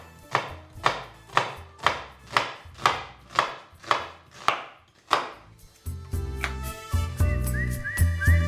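An onion is chopped finely with a knife on a board, about nine crisp, evenly spaced chops, close and distinct, before light whistling and music take over.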